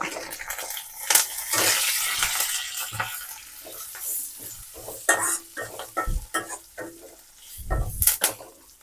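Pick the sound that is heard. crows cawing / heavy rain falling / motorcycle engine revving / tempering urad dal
tempering urad dal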